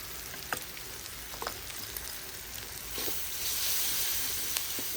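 Freshly grated coconut being stirred in a frying pan, a soft steady sizzle with occasional light scraping taps of the spoon, the frying hiss growing a little brighter near the end.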